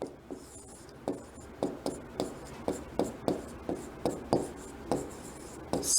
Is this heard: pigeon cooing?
no